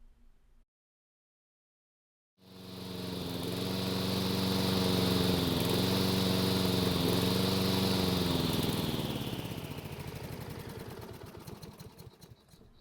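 A lawn mower with a Kohler engine starts after a short silence and runs at a steady, fairly loud drone, then gradually fades and turns uneven toward the end.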